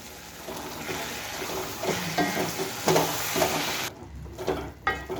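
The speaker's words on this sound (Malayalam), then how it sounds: "എന്നിട്ട് ഇതൊന്ന് ഇളക്കി കൊടുക്കുക" A spoon stirs manjali biryani masala in a pot, a steady close scraping and sizzling churn with wet, moist texture, louder bursts midway and a brief clatter near the end, with no talking.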